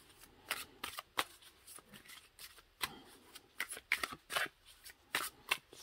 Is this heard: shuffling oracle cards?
yes